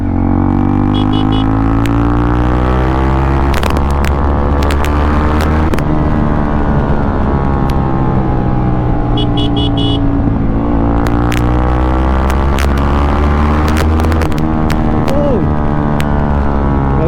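A Yamaha R15 V4 motorcycle with a modified exhaust rides along, its engine droning steadily and rising into deeper bass-heavy revs under throttle, loud and close throughout, with a few sharp clicks and knocks over the engine.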